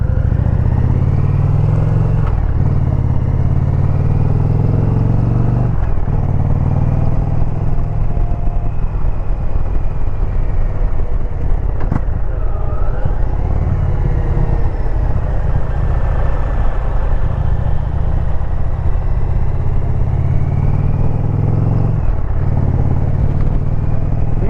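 A motorcycle engine drones steadily and loudly while riding, a constant close rumble with wind rush that barely changes across the whole stretch and has no talking over it.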